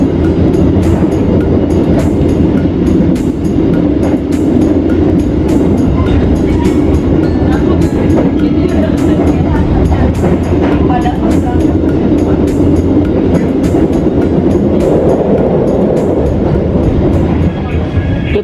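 Interior of the nearly empty Tegal Bahari economy-class train running from Tegal toward Jakarta, a loud continuous rumble of wheels on track with regular clicking rail joints and a faint high squeal near the end.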